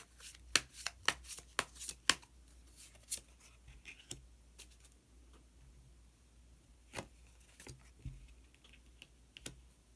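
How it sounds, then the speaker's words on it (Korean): Tarot cards being shuffled and one card drawn from the deck, heard as a cluster of crisp close snaps and riffles followed by sparse soft taps and slides in a quiet room. "히든카드 한 장 더 뽑아보도록 하겠습니다"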